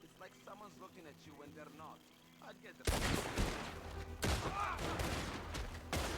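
People talk quietly at first, then loud, rapid gunfire erupts in dense bursts that continue to the end, in the video game Red Dead Redemption 2.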